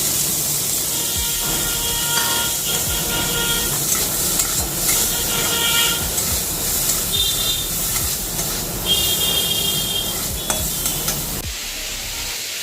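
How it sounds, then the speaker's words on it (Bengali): Boiled potatoes are stirred in a little hot oil with salt and sugar, giving a steady sizzle and hiss broken by repeated scraping and knocking of a spatula against the pan, up close, ending abruptly. "দেন একটুখানি সামান্য তেল দিয়ে একটু নুন মিষ্টি দিয়ে নেড়ে নেব।"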